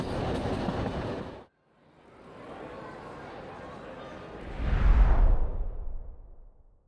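A Soviet-built commuter train pulls slowly out of Podgorica station in Montenegro, its rumble and rolling wagon noise building steadily, swelling louder near the end, heard from on board.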